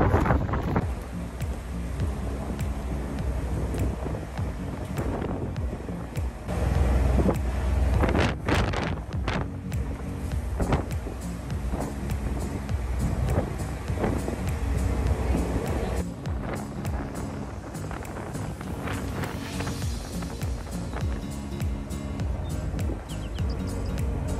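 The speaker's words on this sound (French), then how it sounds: "il y a grave du vent, on peut pas parler" Strong wind buffets the microphone on a small boat at sea off Hurghada, Egypt, a loud continuous roar with gusting surges throughout, water and engine rumble underneath and faint voices partly masked.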